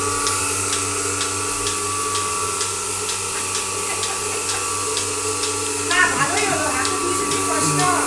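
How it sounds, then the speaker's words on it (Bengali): Turkish milking machine milking a cow, giving a steady mechanical hum with evenly spaced pulsing clicks repeating throughout, fairly loud and close. "এটি হলো তুরস্কের দুধ দোহানো মেশিন।"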